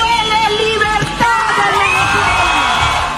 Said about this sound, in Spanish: en la calle retumban los gritos de libertad